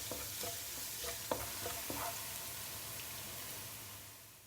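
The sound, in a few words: garlic frying in a wok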